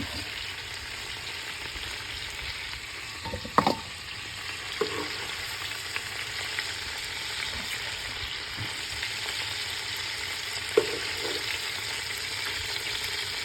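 Cajun sticky chicken sizzles and fries in a pan with a steady, moderate crackle. A few faint clinks of stirring rise above the continuous sizzle.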